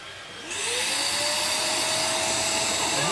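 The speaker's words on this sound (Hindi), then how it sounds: "वैक्यूम जो है इसमें कोई इशू हो गया है," A faulty vacuum cleaner starts up and runs very loudly, a harsh steady high-pitched whine and roar that begins abruptly and continues without a break.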